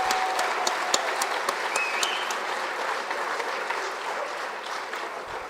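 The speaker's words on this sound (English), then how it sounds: "So just a round of applause for those people." An indoor audience at an Alberta independence talk in Morinville claps in sustained, even applause, a dense crowd sound that holds steady for several seconds and fades slightly at the end.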